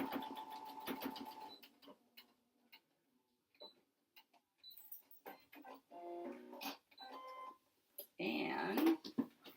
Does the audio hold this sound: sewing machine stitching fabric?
yes